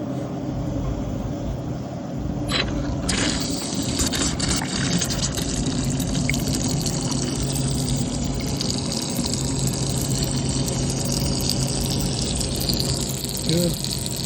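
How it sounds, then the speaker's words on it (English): A boat's water pump runs while water fills the sink, giving a steady humming drone with rushing, gushing water. It sounds close, and a brief clatter comes near the start. "Turn on the water pump."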